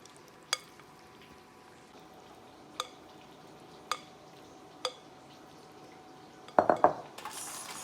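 Fried shrimp pour onto a serving plate in a kitchen: a few sparse, faint clinks, then a quick cluster of clattering taps near the end.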